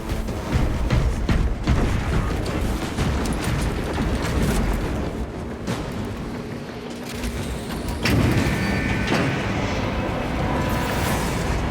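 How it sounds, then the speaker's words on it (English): A lift descends in Warhammer 40k Space Marine 2, giving a loud, steady mechanical rumble and grinding drone that runs the whole way, swelling again near the end. "Now to the lift."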